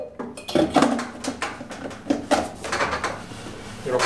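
Pacojet beaker and lid clicking and knocking into place in the machine, a series of sharp hard plastic-and-metal clacks spread unevenly through the clip, close and fairly loud, with no talk.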